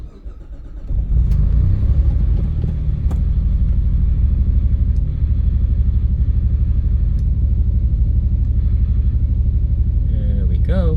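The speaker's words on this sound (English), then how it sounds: "I actually haven't started this car in like almost 3 weeks now. So let's see how it does." A Hyundai Tiburon starts from cold after sitting about three weeks; the engine catches after a second and settles into a loud, steady, close idle rumble that holds for the rest of the clip, with a voice talking briefly over it.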